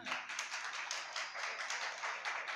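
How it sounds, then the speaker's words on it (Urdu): An audience applauds at an inter-school speech competition in Karachi: dense, continuous clapping from many hands, a steady wash of sound with no voices over it. "ذرا تالیوں کی گونج ہونی چاہیے"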